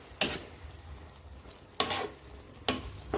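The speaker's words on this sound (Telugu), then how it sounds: "చక్కగా మొత్తం గ్రేవీ అంతా కలిసేదాకా ముక్కలు కొంచెం మంచిగా పెట్టుకుందాం" Capsicum masala curry pieces are stirred through gravy in a pan, with three distinct scraping strokes over a quiet, continuous sizzle.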